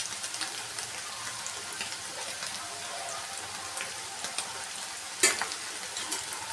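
Ingredients for chicken fried rice fry in a pan with salt and a little turmeric, giving a low steady sizzle with occasional stirring scrapes and one sharp clack of a utensil near the end.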